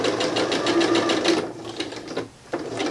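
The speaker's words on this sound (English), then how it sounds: "We're then going to bring it into the machine and I like to do a seam allowance of 1/2 inch." A sewing machine stitching a fabric seam runs in a fast, even, close mechanical chatter, then slows, pauses briefly and starts again for a short burst.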